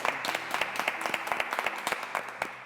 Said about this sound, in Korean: 우리 박 교수님께 박수 한번 드리겠습니다